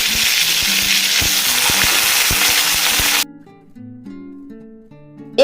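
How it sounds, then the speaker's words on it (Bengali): Panch phoron, dried red chillies and a bay leaf tempering in hot oil, a loud dense sizzle with popping seeds for about three seconds, then it drops away to quieter clinks and faint background sounds. "তেলের মধ্যে দিয়ে দিয়েছি 5 ফোড়ন, শুকনো লঙ্কা আর তেজপাতা"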